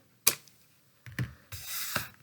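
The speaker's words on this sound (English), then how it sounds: "I'll take my scissors and just snip the extra off the end" Scissors snip the excess paper off the end of a glued paper daisy craft: three or four short, sharp crisp cuts, close and clear, with no talking.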